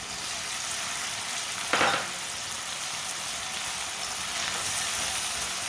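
Peas sizzle and fry in a pan with a steady hiss throughout, broken by one brief louder scrape of stirring near the start.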